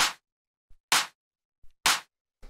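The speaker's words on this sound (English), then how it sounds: "the last layer that we have here is the clap, which sounds like this." Techno clap sample struck three times at an even rate on the second and fourth beats, each a sharp, bright, dry burst with a short decay, alone and fairly loud.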